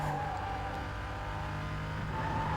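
Porsche engine in Need for Speed: Most Wanted (2005, PS2) drones steadily at high revs during a race, loud and continuous with no talk over it.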